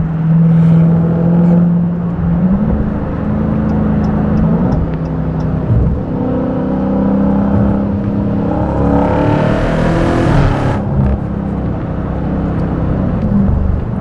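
2023 Dodge Challenger Hellcat Jailbreak accelerating hard with its tires spinning, a loud sustained engine roar heard from inside the car that shifts pitch through gear changes, with tire and wind noise rising.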